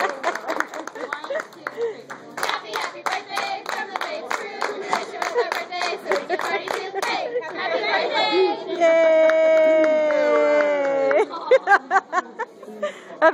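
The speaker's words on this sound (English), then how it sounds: "Can we give him a round of applause, please?" Quick, rhythmic clapping for a three-year-old boy's birthday runs under lively chatter from children and adults, then a drawn-out voice rises above it before a few last claps.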